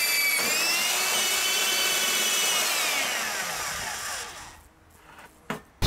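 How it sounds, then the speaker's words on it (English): A power drill bores through a Four Wheel Camper shell from the outside, a loud steady high whine with rising pitch sweeps for about four seconds, then stopping, followed by a few sharp knocks. "so now I'm gonna go to the outside and drill it"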